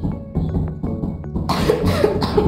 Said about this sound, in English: You coughed my freaking ear.